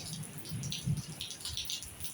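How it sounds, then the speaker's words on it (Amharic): Steady rain falls in an outdoor area in Ethiopia, a continuous soft patter of drops with a few brief heavier splashes and rattles, no voices. "በጣም እየዘነበ ነው።"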